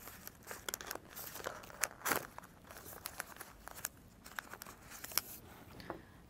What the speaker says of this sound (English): This is the oil paper.